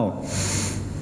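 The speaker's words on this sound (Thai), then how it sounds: "หายใจเข้า" A single steady, close inhalation through the nose during a qigong breathing exercise, a continuous airy rush lasting about a second.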